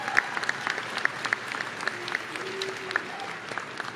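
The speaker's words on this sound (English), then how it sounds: "Graduates, let's give all of our family members a big round of applause." Audience at a spring commencement ceremony for schools of business, transportation and manufacturing applauding graduates' family members, a steady, fairly faint patter of many hands with sharp individual claps standing out, no voices.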